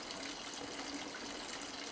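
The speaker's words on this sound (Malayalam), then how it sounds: "പുഴ ഒഴുകിക്കൊണ്ടിരിക്കുന്നു" A river rushes past near Thommankuthu waterfall in Idukki district, Kerala, a steady broadband gush of flowing water, soft and unbroken, with no one talking.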